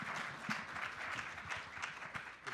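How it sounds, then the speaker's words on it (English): An audience at a keynote presentation gives a short round of applause, a fairly soft, uneven patter of clapping from a modest crowd with a few sharper claps standing out. "Give them a round of applause."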